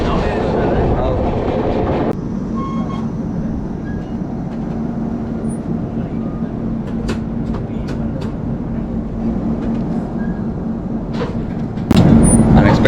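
Duronto Express 12286 rolls along on the Delhi to Secunderabad run, heard from inside a coach as a loud, continuous low rumble with rhythmic rail clatter and faint knocks, a voice talking over it.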